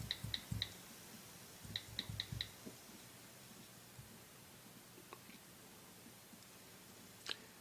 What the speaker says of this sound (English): let's type in a simple passcode